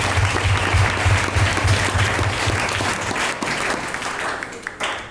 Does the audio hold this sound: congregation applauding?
yes